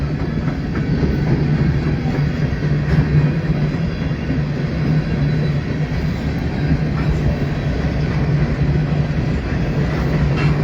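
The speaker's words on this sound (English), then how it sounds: "So there's 2 trains already, and I just got here." Trains roll past in Fremont with a steady low rumble and clattering wheels, a continuous close passage with no talk.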